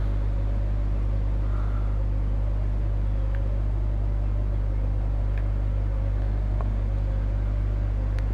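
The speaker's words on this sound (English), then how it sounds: "You can actually hear the bus sort of revving and idling." A bus engine in Bus Simulator 21 idles with a steady low rumbling drone and faint, slight rises in revs, continuous and even throughout with no talking.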